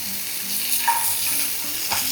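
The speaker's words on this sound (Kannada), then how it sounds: "ಸೊ ಆನಿಯನು, ಬೆಳ್ಳುಳ್ಳಿ ಎಲ್ಲ ಸ್ವಲ್ಪ ರೆಡ್ಗೆ ಫ್ರೈ ಆಗಬೇಕು, ಕೆಂಪಗಾಗಬೇಕು" Onion and garlic frying in a pan for a hot chilli garlic chicken, a steady soft sizzle running throughout with a faint clink near the end, no talking.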